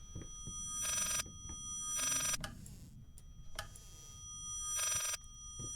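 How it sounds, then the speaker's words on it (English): A phone ring played in reverse in the video game Layers of Fear: short bursts of bright bell-like ringing that swell and cut off abruptly, repeating at regular intervals over a low, murky background. "It is a phone ringing, but the sound is backwards."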